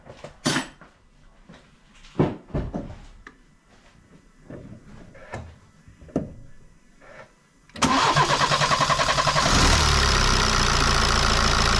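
A BMW N47 diesel engine after a timing chain repair: several knocks and clunks of work come first, then the engine cranks and catches, settling into a loud, steady, rough diesel idle.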